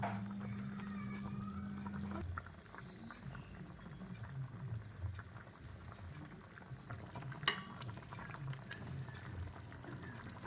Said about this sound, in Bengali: ঝোলটা ফুটছে টকবক টকবক করে।